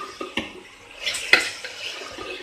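Boiled chickpeas are stirred into masala in a pot, giving a few close, irregular metallic scrapes and clinks from the spoon against the pot, set over a soft, wet mixing sound.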